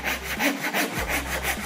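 Hand saw cutting wood trim for an IKEA Malm dresser, a steady back-and-forth rasp of repeated strokes, close and clear with no talking.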